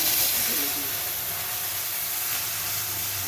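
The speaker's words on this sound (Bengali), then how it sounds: "এই মশলাটা আমি ঢেলে দিচ্ছি" Spice paste tipped into hot oil gives off a loud, dense hissing sizzle that holds steady and close throughout, with no talking over it.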